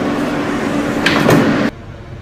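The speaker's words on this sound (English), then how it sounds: "Stand clear of the closing doors, please." Doors of an R160A subway train on the L line slide shut with a quick whoosh and a firm thud at the end over steady cabin hum, in the OpenBVE train simulator game.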